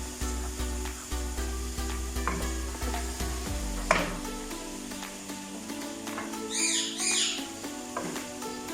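Steady sizzling of minced meat and onion frying in a pan for aloo qeema, with occasional stirring scrapes and a brief metallic clink, no talking.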